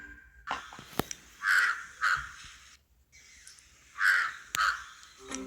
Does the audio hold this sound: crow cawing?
yes